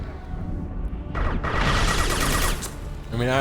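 Gunfire in the video game Mass Effect 2, a loud sustained burst of rapid shots and crashing impacts lasting a couple of seconds, with a voice speaking around it.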